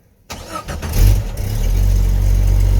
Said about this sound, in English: This thing just fired right up?